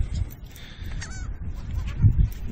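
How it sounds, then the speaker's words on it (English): Seagulls call a few times at Siesta Key Beach at sunrise, brief honking cries at moderate distance over soft, low background rumble. "There's the seagulls going."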